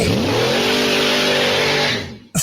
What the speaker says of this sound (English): when you step on the throttle, it sounds like you're revving an engine